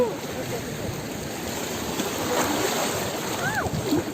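Waves wash over a rocky shore in a steady, broad rush of surf and splashing water, fairly close and continuous, with brief faint voices in the background.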